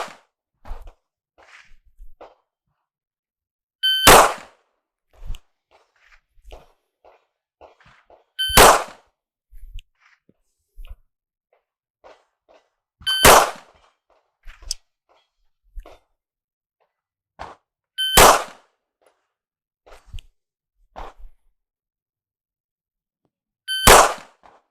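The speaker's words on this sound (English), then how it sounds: "At the tone, I'm going to shoot a shot." Five sharp pistol shots ring out at a target, spaced a few seconds apart, each a loud crack with metallic ring, separated by quiet gaps with faint handling clicks.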